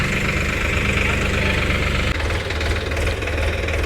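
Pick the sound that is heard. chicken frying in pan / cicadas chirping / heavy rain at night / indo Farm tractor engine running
indo Farm tractor engine running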